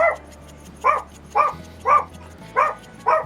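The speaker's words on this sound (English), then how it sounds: "No one mind the dog. He's just barking at nothing," A dog barks six times in a steady rhythm, loud and close, each bark short and sharp over a quiet kitchen background while a casserole is being made.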